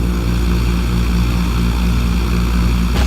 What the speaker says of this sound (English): Now, gently increase throttle to get the aircraft moving.